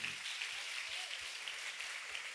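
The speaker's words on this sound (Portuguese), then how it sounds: "E pode aplaudir o Senhor." A church congregation applauding together, steady continuous clapping filling the room at moderate loudness with no talking over it.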